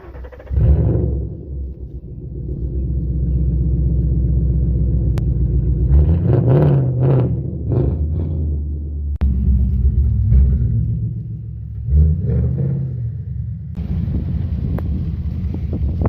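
A Volkswagen car cranking and its engine starting, a deep low rumble that climbs and falls through several revs, with wind buffeting the microphone and a few clicks and knocks along the way.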